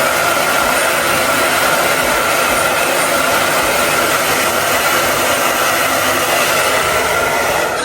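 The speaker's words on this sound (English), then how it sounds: "My hair actually blow dried really quickly." A hair dryer blows hair dry up close, a loud, steady, unbroken whooshing roar that stays constant throughout with no voices.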